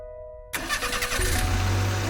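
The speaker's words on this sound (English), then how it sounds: "I found someone to help jumpstart the engine." A car engine cranks and catches after a jumpstart, then settles into a steady, loud running rumble, heard close by with no talking.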